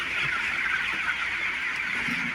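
A flock of 22-day-old broiler chickens on a farm keeps up a dense, steady chorus of high chirping and peeping, with no talking.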